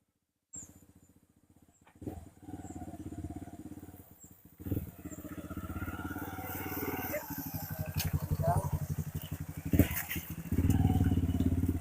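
Motorcycles riding along a rough road in the district capital of West Taliabu, Pulau Taliabu, their engines a steady close rumble that rises near the end, with people talking over it.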